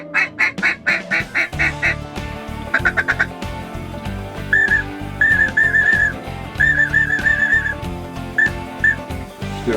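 Ducks quack in rapid bursts during a duck hunt, mixed with repeated whistle-like calls that may come from a duck call, loud and close with no talking.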